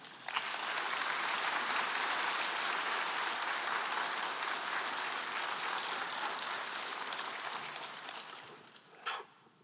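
A church congregation applauding to welcome a pastor at an early-morning prayer service for a 40th anniversary. The clapping is broad and sustained, fairly distant, and tapers away near the end.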